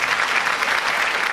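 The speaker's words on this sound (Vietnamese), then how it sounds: "chúng ta vỗ tay cho Trương Thế Vinh" Applause for Trương Thế Vinh on a Vietnamese game show, a dense, steady patter of many hands clapping close by, with no voices over it.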